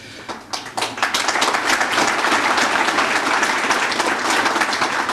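A crowd at a celebrity breakfast event applauds steadily, starting with a few scattered claps and swelling into full, dense clapping that holds for several seconds.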